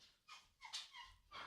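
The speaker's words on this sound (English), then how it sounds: "I'm sorry about the dog." A dog whimpers in a few faint, high, whiny cries with short gaps between them, quiet and somewhat distant.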